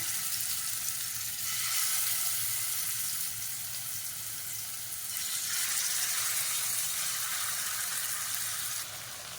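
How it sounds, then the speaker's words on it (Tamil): Chicken frying in hot oil in a home kitchen, a steady loud sizzle and crackle that rises and falls slightly across the whole stretch, with no voices. "எண்ணெய் ஊற்றிட்டு இது காஞ்சதுக்கப்புறம் இப்போ இதில் வந்து இந்த சிக்கன் வந்து போட்டு பொரிச்சு எடுத்துக்கலாம்"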